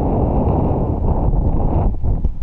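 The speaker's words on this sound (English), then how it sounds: "wind is still pushing me" Wind roars steadily across the microphone on a fishing boat anchored over hydrilla beds, a loud, dense rumble that fills the whole clip with no speech.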